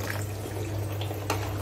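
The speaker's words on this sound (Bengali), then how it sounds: "শাক সব কিছু এভাবে মানে জালিটা ভিতরে দিয়ে ধুয়ে নিই" Greens being washed in a strainer under running tap water, a steady close splashing trickle with a low hum underneath for a short moment.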